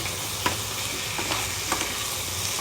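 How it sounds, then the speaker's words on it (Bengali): Three whole crabs sizzle steadily in a hot pan while being sautéed for crab curry, with a few sharp stirring scrapes and clicks over the continuous frying hiss. "গোটা গোটা মিন্স ছাড়িয়ে দিয়েছে, সেটাকে আমি রান্না করছি কষিয়ে।"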